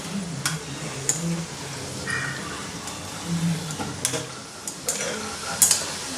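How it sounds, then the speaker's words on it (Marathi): Dhonde frying in oil in a home kitchen, a low steady sizzle with occasional clicks and utensil taps, a voice briefly speaking in the background. "इकडे हे तळत आहेत"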